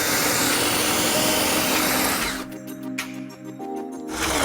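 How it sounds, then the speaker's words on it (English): A power drill boring pocket holes through a wooden board clamped in a pocket hole jig, a loud, steady whine that drops away midway, then spins up again toward the end. "It's gonna allow me to put holes in the board so I can attach both pieces of board with hidden screws."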